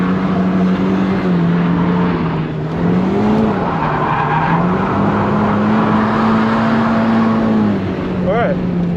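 A Nissan NISMO 270R drifts on a track, its engine holding a steady loud drone with wavering pitch as it shifts through gears, tires squealing continuously under the engine's roar, close and sustained.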